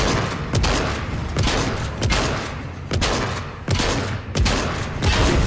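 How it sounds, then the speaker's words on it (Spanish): Gunfire in Fortnite, a burst-filled stretch of sharp shots and volleys arriving in irregular clusters, loud and close, some echoing booms between. "¡Dispara! ¡Mira, dispara! ¡Madre mía! Me está disparando a mí, ¿no?"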